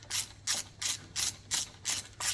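A ratchet clicks in seven quick, evenly spaced bursts while loosening bolts during a cambelt change on a 2019 Skoda, close and fairly quiet with no talking.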